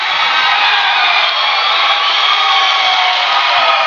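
Spectators at a high school wrestling dual meet roar wildly in a gym, a dense, steady wall of cheering and shouting that stays loud and unbroken throughout.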